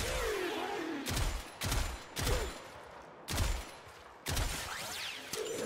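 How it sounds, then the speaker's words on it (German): Gotva Prime rifle firing in the game Warframe, sustained automatic bursts in several loud volleys with sharp, heavy reports and brief pauses between them. "Das waren jetzt 20 Schuss, könnte aber reichen, wenn wir den Kopf keinmal treffen."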